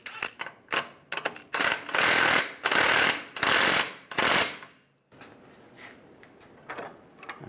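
A socket ratchet tightens a ball joint nut on a Chevy Silverado 1500 front suspension, with loud bursts of clicking up close, then quieter tool handling, no speech.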